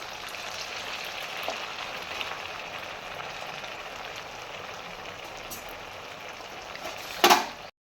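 Six sabudana vadas frying in hot oil, a soft, even crackle and fizz held steady at moderate level, ending with a brief louder clatter.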